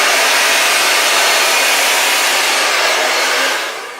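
A hair dryer blows steadily at close range during a smoothing blow-out, a loud, even rushing whoosh that holds for several seconds before easing off at the end, with no talk.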